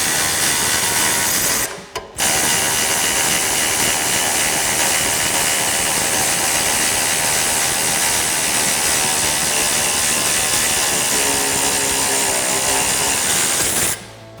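Ratchet or power tool runs continuously while removing a lower control arm bolt on a Jeep Wrangler JK, a loud, dense mechanical whir close by with a brief pause near the start and a stop at the end.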